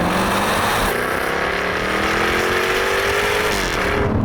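A Jaguar F-Type P450 First Edition AWD engine revs loud and close, its pitch climbing steadily toward about 6,000 RPM before dropping briefly at a gear change, with no voices.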